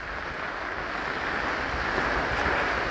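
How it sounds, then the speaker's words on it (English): Heavy cyclone rainwater rushes over a grassed overflow spillway in a food forest, a steady broad roar of flowing water close by with no talking. "there's quite a lot of water going over it"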